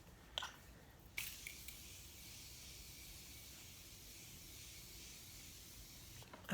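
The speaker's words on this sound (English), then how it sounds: "let's go ahead and set it with this Morphe spray." Soft spray hisses in short bursts from a Morphe makeup setting spray, a faint continuous misting sound close by, with quiet clicks at the start and end.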